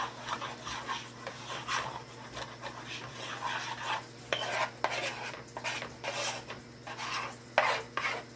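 A roux of flour being stirred in a pan on the stove gives a steady scraping and rubbing, with light clinks of a utensil against the pan under a low hum, and no talking.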